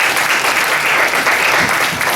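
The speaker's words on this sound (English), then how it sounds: "Can we give her another round of applause?" An audience at a family reunion in Washington, D.C. claps in a loud, sustained round of applause, a thick even wash of many hands with no voices over it.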